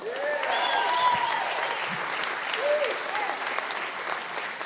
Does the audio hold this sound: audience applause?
yes